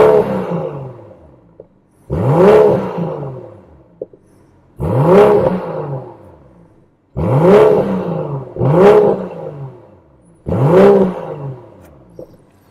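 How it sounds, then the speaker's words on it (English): A BMW M440i Gran Coupe in Sport Plus mode revs its exhaust in five or six sharp bursts, each climbing then falling away, loud and close with short pauses near idle between them. "see if we can get some exhaust sound out of this thing here"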